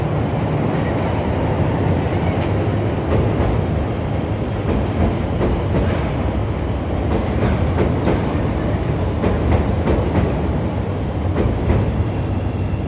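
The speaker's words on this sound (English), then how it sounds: "Let's just wait a few seconds for the train to come." A train rumbles past in downtown Chicago on a foggy January day, a steady loud roar with rhythmic clatter of wheels over rail joints throughout.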